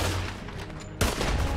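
Gunfire in the video game Red Dead Redemption 2, a dense loud burst of rapid shots, a short lull, then another heavy volley.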